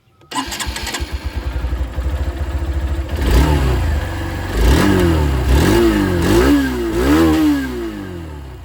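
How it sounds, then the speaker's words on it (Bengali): A Hero Xtreme 160R 2V motorcycle with its normal exhaust starts up, idles with a rapid thumping pulse, then is revved several times in loud rising and falling bursts, close and alone. "এবার আপনাদেরকে আমি এক্সট্রিমের আওয়াজটা শুনিয়ে দিই।"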